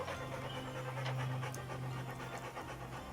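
A dog pants steadily and fairly quietly close by, a quick even rhythm of breaths running throughout with no talking.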